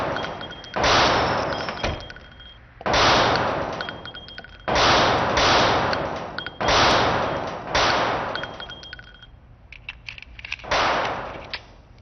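Gunfire at a shooting range comes in about six loud, sustained rapid bursts separated by brief pauses, with a few lighter scattered shots near the end.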